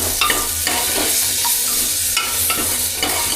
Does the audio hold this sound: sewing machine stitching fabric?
no